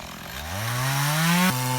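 An electric chainsaw revs up and bites into wood outdoors in a village, its whine rising steadily in pitch, loud and close, then dropping as the cut finishes.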